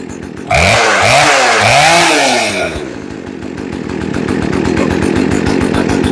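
Poulan chainsaw after a carburetor and fuel line replacement, running without its air filter; the engine revs up loudly in three quick bursts, then drops to a steady, buzzing idle close by.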